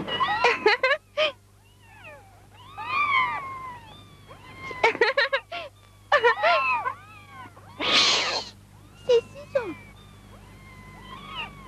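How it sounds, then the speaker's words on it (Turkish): Several cartoon cats in an episode of the animated series Heidi meow and yowl in repeated bursts with short pauses between, close and loud, some calls stretching into drawn-out wails. "Kedileri beğendin mi?"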